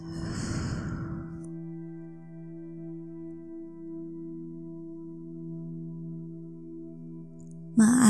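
Slow, deep breathing in and out during a guided relaxation exercise, a soft breath at the start followed by a long quiet stretch under a faint sustained musical drone.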